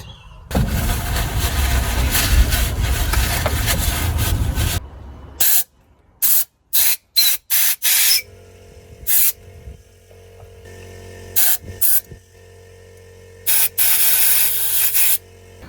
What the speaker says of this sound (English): I blew some air in there as well